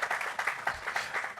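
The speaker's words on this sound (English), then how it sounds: "you should give yourself a round of applause" Brief burst of audience applause at a book launch, dense and moderately loud, made of overlapping claps from a crowd.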